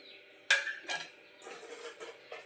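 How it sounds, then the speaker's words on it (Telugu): Chicken pakodi batter stirred in a bowl with a spoon, a few sharp metallic clinks and scrapes of utensil against the dish, close and intermittent with quiet gaps. "కరివేపాకు కొత్తిమీర వేసుకుని బాగా కలిపేసుకోవాలండి"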